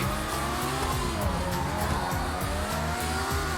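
In GTA V gameplay, a car engine drones and revs continuously while tires squeal repeatedly in short skids, all loud and close with no voices.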